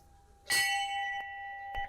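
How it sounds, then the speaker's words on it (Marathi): A temple bell is struck once, ringing out loud and clear with a long sustained metallic tone, then two lighter taps follow as the ring fades, close by in a quiet space. "माझं मी घंटी शोधते."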